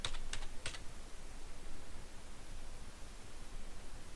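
Typing on a computer keyboard: a few quick key clicks at the very start, then only a steady low hiss.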